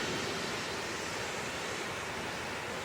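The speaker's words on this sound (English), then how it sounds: "this is the falls formed on the Horse Pasture River here in western North Carolina" Large waterfall on the Horse Pasture River in western North Carolina, a steady broadband roar of falling water filling the whole span, loud and unbroken with no voices.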